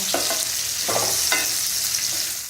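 Chopped raw mango stirred in a pan over low heat for a quick methamba, a steady sizzle underneath with a few scraping strokes of the spoon, close and alone.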